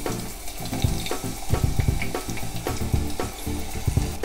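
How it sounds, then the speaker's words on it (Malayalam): Chopped small shallots and curry leaves frying in oil in a pan for a Kerala-style chicken curry with coconut milk, a steady close crackle and sizzle with scattered pops and a few clinks of a utensil. "ഇനി ഉള്ളി നന്നായിരുന്നു മൂത്ത് വരട്ടെ,"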